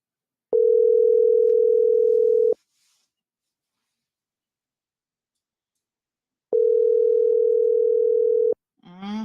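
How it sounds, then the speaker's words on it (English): An unanswered outgoing telephone call rings back as two long steady ringback tones separated by a pause, loud and clear with no voices. "Let's see if Mr. Rush can answer the phone here this morning"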